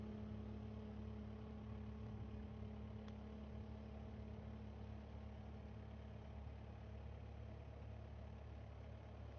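Kubota SVL compact track loader with its engine at idle, a steady low, even drone holding constant throughout with no revving or talk.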